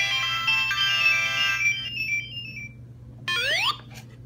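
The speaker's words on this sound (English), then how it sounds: "he makes a bunch of different sounds, like sound effects of the game" Bright electronic chimes and beeps of video game sound effects from a toy: a descending jingle that fades out, then a short quick warble of rising tones after a pause.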